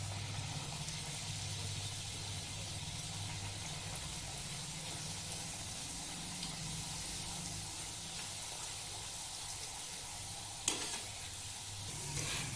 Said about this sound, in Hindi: इस तरीके से हम बाकी पापड़ी को भी फ्राई कर लेंगे